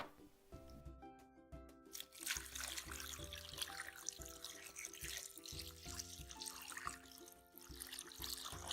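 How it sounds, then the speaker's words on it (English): Room-temperature water running steadily from a tap into a bowl of oxtails for soaking, close and continuous, with light clinks and splashes mixed in. "I'm going to soak oxtails in just plain water with room temperature"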